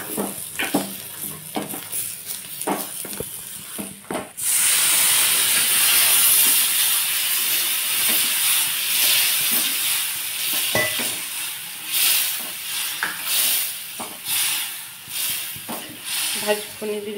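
Eggplant curry with onion and ground peanut and sesame being tempered in a hot pan: scattered stirring clatter, then a loud, sustained sizzling hiss that keeps bubbling with scraping stirs, while a voice talks over it.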